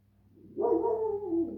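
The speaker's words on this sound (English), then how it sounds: "I do apologize for the dogs." Dogs at play outdoors give one sustained, fairly close whining yelp or bark-like vocal with no talk over it.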